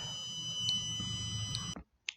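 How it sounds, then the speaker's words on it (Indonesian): An Arduino-based hydroponic nutrient indicator's electronic buzzer emits a steady, loud, high-pitched continuous tone that runs for nearly two seconds and then cuts off, followed by a short faint blip. "Ya, lampu hijau dan buzzer menyala."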